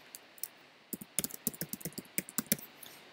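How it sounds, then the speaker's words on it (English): Keys tapped on a computer keyboard, starting with a few isolated clicks and then a quick burst of close, crisp keystrokes in an uneven rhythm, with no voices. "I'm going to type certificate"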